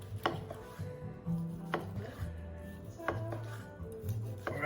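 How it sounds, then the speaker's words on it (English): A knife slicing through a grilled steak on a board, with several sharp chopping knocks spaced about a second apart over low background hum. "So I'm just gonna keep slicing it."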